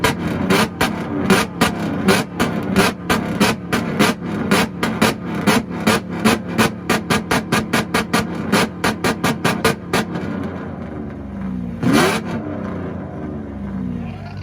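A Mercedes V12 engine at a car meet rev battle, blipped again and again in a rapid string of loud, crackling bursts that end abruptly, then one more rev after a pause.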